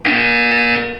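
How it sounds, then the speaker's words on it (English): A test-chamber buzzer from the video game Portal 2, one harsh, steady electronic tone lasting about a second, loud and alone before it tapers off. "When you hear the buzzer, look down at the floor."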